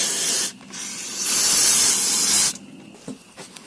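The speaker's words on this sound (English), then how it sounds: "Imagine this, using brake parts cleaner for its intended purpose." Brake parts cleaner sprays onto a car brake in two loud, close hissing bursts, a short one and then a longer steady blast, followed by faint dripping and light handling sounds.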